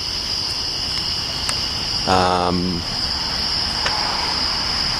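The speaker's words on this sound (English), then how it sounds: "You can hear the crickets." A steady high chirping of crickets fills the night background outside an old inn, with a short burst of a louder tonal sound in the middle; no one speaks.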